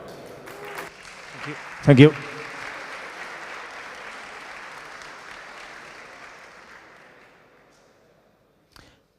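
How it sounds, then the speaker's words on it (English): Audience applause for a hackathon team at a port innovation event, a sustained broad clatter of many hands that fades gradually, with a brief louder burst where a voice speaks over it, then near silence. "Big clap for them."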